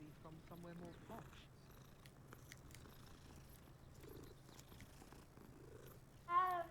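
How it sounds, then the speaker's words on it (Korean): A calico cat in the video game Hogwarts Legacy purrs as a soft, low rumble beneath quiet ambience, with a brief meow near the end. "아까랑 다른 야옹인 것 같은데? 얘는 삼색냥인데?"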